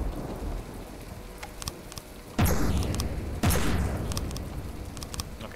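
Cannon fire in the naval combat game From the Depths: two sharp, loud booms about a second apart, set over a constant rain-like hiss of background battle noise.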